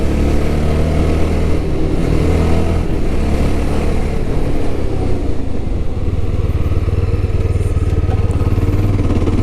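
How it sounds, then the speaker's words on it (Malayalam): A 2022 Yezdi Scrambler motorcycle with dual-channel ABS under a sudden braking test, heard as a loud, close engine drone with wind rumble and a shifting pitch as it slows, no talk. "നമുക്ക് ജസ്റ്റ് ഒന്ന് സ്ക്രാംബ്ലറിൻ്റെ ബ്രേക്കിംഗ് ഒന്ന് ടെസ്റ്റ് ചെയ്ത് നോക്കാം."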